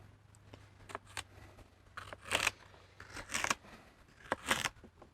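Rhubarb is cut into 1-inch pieces, heard as a series of close, crisp chopping crunches spaced about a second apart, quiet and without talk.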